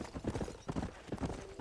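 Horse hooves clip-clop at a steady trot in the Western video game Red Dead Redemption, a quick rhythmic run of hollow knocks at moderate distance, with game ambience beneath and no talk.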